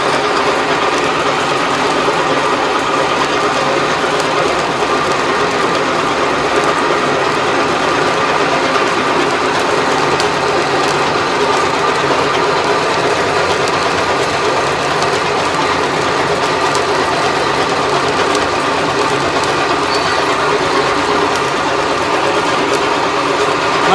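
Kurkure corn puff making machine running automatically, extruding long corn puffs from rice fed into a hopper; a steady, loud mechanical clatter with ratcheting, gear-like rhythm continues without pause and without voices.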